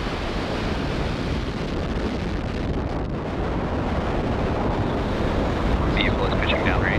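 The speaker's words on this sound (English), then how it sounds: "engines full power, and liftoff of ViaSat-3." SpaceX Falcon Heavy rocket lifting off carrying the ViaSat-3 satellite, a dense, continuous roaring rumble with wind buffeting, loud and steady throughout, with faint cheering near the end.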